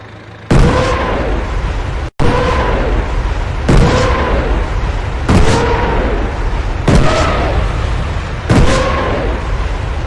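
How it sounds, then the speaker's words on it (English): Panzerwerfer 42 rocket launcher firing in the video game Post Scriptum: a rapid salvo of loud whooshing rocket launches, roughly six in succession, each a harsh roaring burst that blends into the next. "it is called the Panzerwerfer 42. You just gotta love the sound its rockets make."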